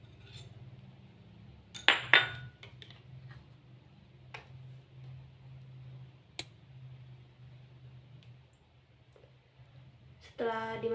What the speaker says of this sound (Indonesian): diaduk sampel minyak makan dengan air tadi hingga homogen